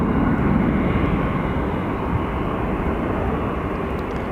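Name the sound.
American Airlines Airbus airplane at Sky Harbor Airport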